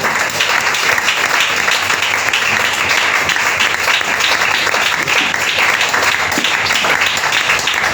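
A church congregation applauds loudly during a service, a dense, steady wall of clapping from many people that holds at full strength throughout.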